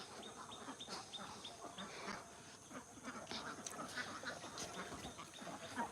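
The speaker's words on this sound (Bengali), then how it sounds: "এইখানে আমি হাঁসগুলো ছেড়ে দিয়েছি" Ducks on a duck farm quack repeatedly in a scattered chorus, faint and somewhat distant, with other farmyard birds in the background.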